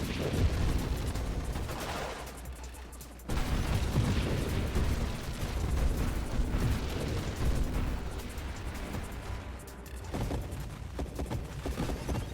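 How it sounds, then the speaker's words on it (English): Mines explode in the space shooter Nova Drift: a dense, steady barrage of loud blasts and rapid shots over droning game music, with a sharp drop and surge partway through. "Oh, so many exploding mines."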